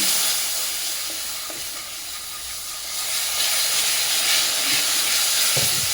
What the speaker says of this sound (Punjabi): ਆਪਾਂ ਘੱਟ ਤੇਲ ਤੇ ਭੁੰਨਦੇ ਹਾਂ ਇਹ ਤੇ ਪਾਵਾਂਗੇ ਆਪਾਂ ਗਰਮ ਪਾਣੀ